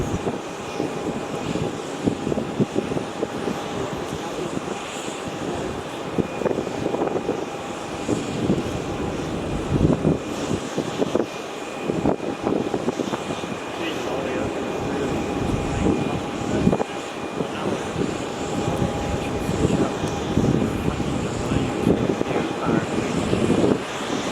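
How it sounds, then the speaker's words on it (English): A Malaysia Airlines Airbus A330 on final approach and landing at Melbourne Airport gives a steady, broad engine roar with a faint whine, heard from close by with wind buffeting the microphone and people talking over it. "the Malaysian A330 on final now"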